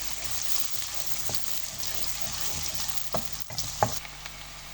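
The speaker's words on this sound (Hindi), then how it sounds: "यहाँ मैं अपने प्याज को हल्का सा ब्राउन करूँगी, और मेरी जो आंच है वो मीडियम है।" Two medium onions fry over medium heat until lightly browned, making a continuous bright sizzle with a few louder stirring knocks and scrapes near the end.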